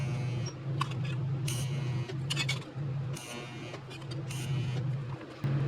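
Tack welds are laid on a fabricated exhaust pipe for a 914 Ferrari build, heard as several short, sharp crackling bursts separated by pauses, over a steady low workshop hum.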